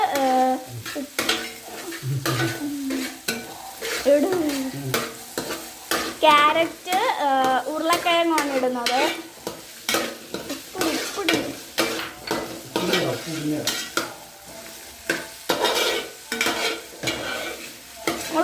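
Chicken stew frying in a pan is stirred, with steady scraping and sizzling throughout alongside a melodic, voice-like background.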